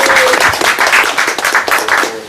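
A room of people applauds a man taking a bow at a talk about the Lawyers of Los Angeles book, with brisk, close hand clapping that holds loud and steady and a faint voice briefly underneath.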